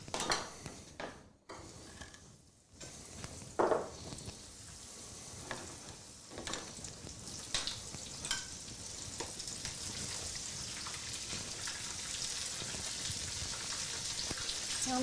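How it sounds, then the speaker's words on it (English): Razor clams coated in breadcrumbs and panko frying in hot oil, a steady broadband sizzle that swells and settles with brief crackles and clatter near the start, continuous and fairly close with no talk. "All right, so we're ready to fry."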